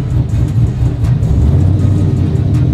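A sequential-transmission burnout truck pulls away, its engine rumbling loud and close with a steady low drone and a slight rise in revs throughout.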